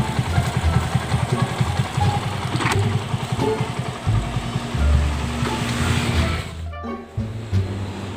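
A motorcycle engine idles steadily close by, a low rumbling throb with a dip near the end before it picks up again.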